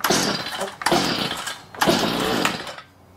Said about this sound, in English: Now, hold down the throttle, and let's give it a pull.